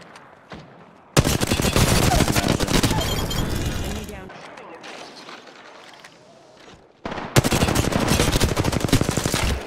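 Rapid automatic gunfire rattles in bursts during a shooter video game, loud sustained volleys broken by a quieter stretch, with a voice talking through it.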